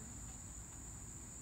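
Crickets chirp in a steady, high-pitched trill, faint and distant, continuing evenly throughout without any voices.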